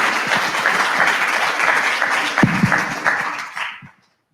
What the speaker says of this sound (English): I want us to go back to that clap as you come up and clap when you sit down.